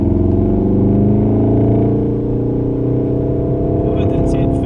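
Volkswagen Golf R engine pulling hard under acceleration at a Wakefield track day, a loud, steady in-car drone with rising harmonics, while an instructor coaches over it.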